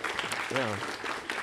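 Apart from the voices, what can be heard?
round of applause for a game play tester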